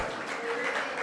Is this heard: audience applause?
yes